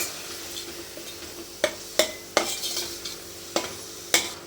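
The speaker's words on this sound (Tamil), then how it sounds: "இதையும் நல்லா மிக்ஸ் பண்ணிக்கலாம்." Chili, turmeric, Kashmiri chili and coriander powders are stirred into a pan for crab gravy with a metal spoon, a handful of sharp scrapes and clinks over a faint sizzle, close by and without speech.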